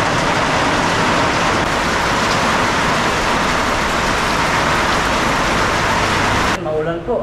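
Heavy rain pours down during a storm, a loud, dense, unbroken roar of falling water that cuts off abruptly near the end, followed by a brief quieter moment.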